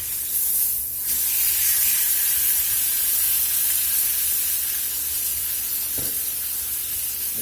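A steak sizzles steadily in a hot pan right after being flipped, a continuous bright frying hiss that stays loud and even throughout, with a brief clatter near the end and no voices.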